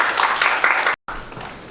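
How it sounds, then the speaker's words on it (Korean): Short burst of audience applause at a fashion industry policy forum, a scattered crowd clapping briefly before a sudden cut, then quieter room noise. "큰 박수 부탁드리겠습니다"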